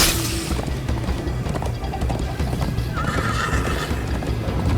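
In a Minecraft Story Mode chase scene, a horse neighs over continuous galloping clip-clop. The sound is loud, dense game audio with a rumbling background throughout.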